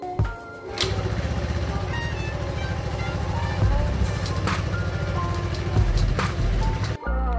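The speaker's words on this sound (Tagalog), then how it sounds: "i-start natin siya ng gamit yung kick. Hindi muna electric mga boss" A Rusi Flex 125i scooter engine, started with the kick starter after an oil change, idles steadily and loudly up close for several seconds with a buzzing drone, then cuts off abruptly; a voice talks over it.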